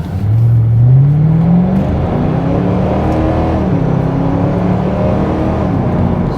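A damaged Ford Mustang GT pulls away and accelerates, its engine note rising in pitch then settling into a steady loud drone with road and cabin rumble, heard from inside the car.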